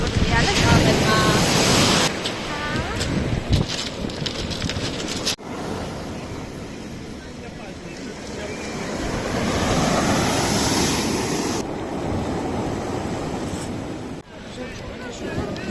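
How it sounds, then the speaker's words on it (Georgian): Sea waves surge and crash onto the shore at Gonio beach, loud and continuous with gusts of wind buffeting the microphone, the roar swelling and easing in long washes. "მაგრესი ტალღებია."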